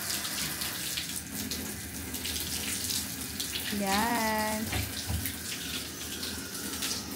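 Tap water running into a bathtub in a pricey hotel room, a steady broadband rush throughout with a brief squeaky tone midway and a person speaking over it.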